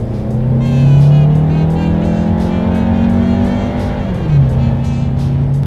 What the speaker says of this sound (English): let's do a quick little acceleration and let's see how quickly we can get this turbocharged four-cylinder here up to speed